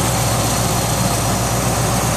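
A 1999 Ford F150 engine idling after an alternator replacement, a loud, steady low rumble with an even pulsing throb, heard up close with no talking.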